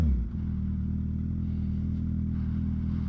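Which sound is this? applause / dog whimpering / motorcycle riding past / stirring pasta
motorcycle riding past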